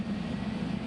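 An airplane strains to take off after an unusually long run down the runway, a steady, heavy engine roar with a strong low drone, loud and continuous with no voices.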